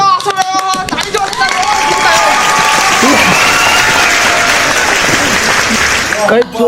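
An audience claps loudly and steadily for several seconds, with crowd noise and voices mixed in, fading out at the end.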